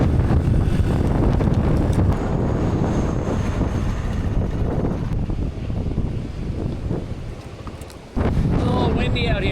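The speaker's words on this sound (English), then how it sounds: "It's a little too windy out here." Strong wind buffeting a microphone outdoors in Taiwan, a continuous loud rumbling roar for several seconds that dips briefly before surging back.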